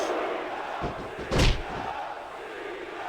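Wrestling arena crowd roars steadily in WWE SmackDown vs Raw 2006 on PS2, a constant dense wash of cheering broken by one heavy slam thud near the middle.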